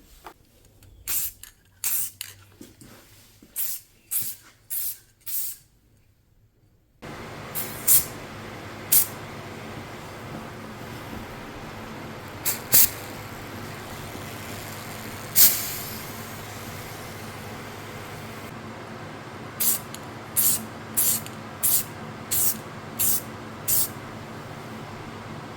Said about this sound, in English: So I'm going to spray that on here.